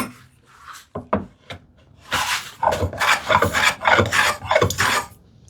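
Hand tool rasping a slight bevel onto the front edge of a wooden TV unit part, a few short scrapes followed by a run of close, loud, rhythmic back-and-forth rasping strokes.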